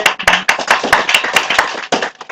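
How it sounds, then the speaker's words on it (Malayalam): Children clapping their hands together as a group in applause, a quick run of close, sharp claps that overlap and keep going for about two seconds before trailing off. "എല്ലാവരും കൈയടിച്ചേ."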